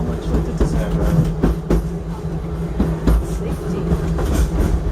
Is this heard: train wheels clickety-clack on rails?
yes